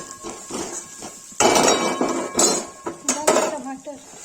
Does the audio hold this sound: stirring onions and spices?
yes